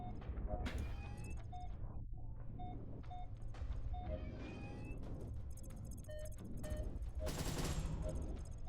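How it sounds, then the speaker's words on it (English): GAT turret fire in a vehicle combat video game, rapid clattering bursts of shots and impacts over a constant low engine hum, with brief tonal whines and a sharper burst near the end. "that was at least like 6 hits from like a GAT turret"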